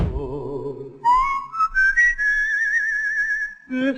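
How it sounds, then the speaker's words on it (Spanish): A man whistles a melody from a song, clear and alone, with a low, wavering opening before the tune climbs into long, sustained notes with steady vibrato. "No es una voz, es un silbido."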